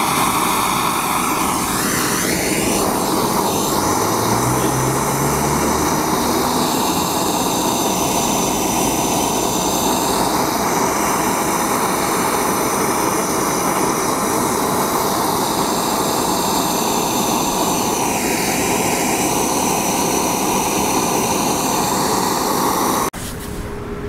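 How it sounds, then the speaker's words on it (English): MAP gas torch flame heating crack filler on a sidewalk or driveway: a loud, steady hissing roar runs almost unbroken throughout and cuts off just before the end. "I'm going to be using MAP gas, but you can also use propane. So you want to take your torch,"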